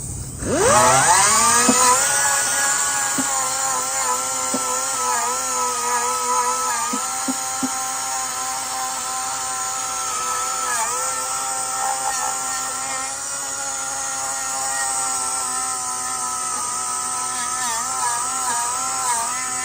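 An abrasive-impregnated wire brush on a power tool strips corrosion, undercoating and factory coating from a 1969 Mustang Mach 1, a loud continuous high whine with slight pitch wavers as it bites into the metal, alone without talk.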